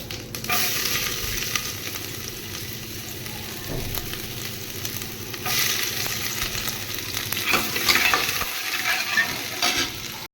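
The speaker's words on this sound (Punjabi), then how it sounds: "ਸਭ ਤੋਂ ਪਹਿਲਾਂ ਮੈਂ ਪਾ ਰਹੀ ਹਾਂ ਜੀਰਾ ਹੁਣ ਪਾਵਾਂਗੇ ਆਪਾਂ ਲਸਣ ਤੇ ਅਦਰਕ" Cumin, garlic and ginger sizzle in hot oil in a pan, a continuous close crackling hiss that flares louder as ingredients are added and stirred, with occasional scraping and no talk.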